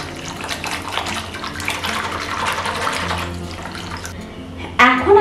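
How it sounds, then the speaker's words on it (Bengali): Water pours steadily into a mixing bowl for making homemade mango leather (aamsotto), a continuous splashing rush that runs throughout and ends in a brighter, louder splash near the close. "এখন আমি মিক্সিং বোলের মধ্যে দিয়ে দিচ্ছি বেশ কিছুটা জল"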